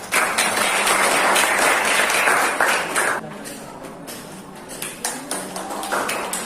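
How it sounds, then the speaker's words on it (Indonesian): A mathematics classroom gives a group presentation a round of applause: loud, dense clapping for about three seconds that thins into scattered, fading claps. "Kasih tepuk tangan lagi dong."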